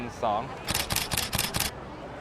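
A camera fitted with a Samyang 35mm F1.4 FE lens fires a quick run of about five shutter clicks in a steady rhythm, close and crisp, while taking street photos at night; a brief voice is heard just before.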